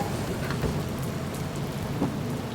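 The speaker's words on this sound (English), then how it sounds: "The sound of the rain hitting the roof of the bus and the noise of the wind through the windows" Rain drumming on the roof of a bus with wind rushing through the windows, a steady dense wash of patter and low rumble that continues unbroken, with no voices.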